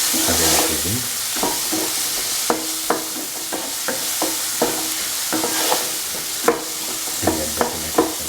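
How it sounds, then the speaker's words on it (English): Tomatoes stirred with other ingredients in a frying pan for a vegan lentil dal fry, a spoon scraping and tapping against the pan in a steady run of clicks over a soft, continuous sizzle. "Mix the tomatoes with the other ingredients."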